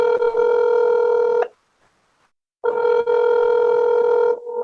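Touch-tone keypad beeps dial an extension on a phone line: two long, loud steady tones separated by a silent gap, with a short further tone at the end.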